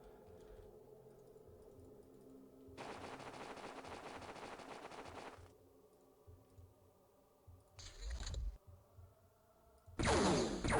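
Game weapon fire in X-Piratez: a long, rapid rattling burst from a cannon, then two shorter sharp blasts, heard over a low droning background soundtrack.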